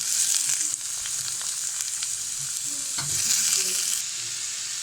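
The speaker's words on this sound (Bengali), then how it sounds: "পেঁয়াজগুলো ভাজা হয়ে গেছে, এখন দিয়ে দেবো আগে থেকে কেটে ধুয়ে রাখা মিষ্টি কুমড়া দেবো" Loud, continuous oil sizzle as pumpkin fries with onions, with soft stirring knocks underneath and a brief drop in intensity early on.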